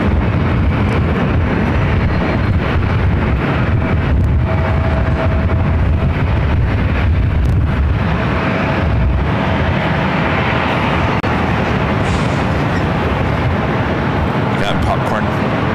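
A jet airliner takes off at LAX with a loud, continuous broadband roar that holds steady throughout, heard from close by with wind buffeting the microphone.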